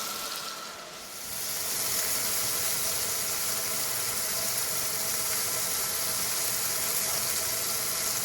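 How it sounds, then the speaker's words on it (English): An AMZCHEF portable range hood fan running on its second setting while fish fries nearby: a steady, loud broadband whoosh with a faint sizzling hiss, rising after a brief dip and then holding constant, with no speech. "I got the fan still on setting number 2"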